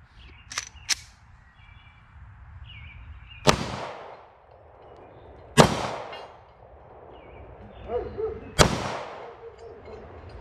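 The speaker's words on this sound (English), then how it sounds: "Now I'm gonna have to shoot another mag." Gunshots from a Ruger Security 9 pistol at a shooting range: a few sharp, loud reports spaced a couple of seconds apart, with smaller pops early on and faint background sounds in between.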